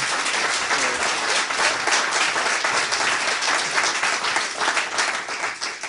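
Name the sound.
audience applause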